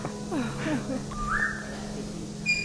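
A pet parrot gives a short rising whistle and a few chirpy squeaks over a soft, steady background hum, fairly faint and heard close up.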